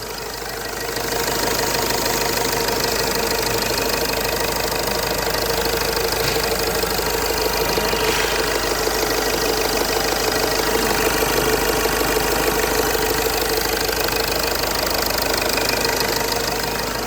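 A rebuilt car engine idles steadily at close range, with a constant mechanical hum and a faint ticking knock running evenly through the whole stretch.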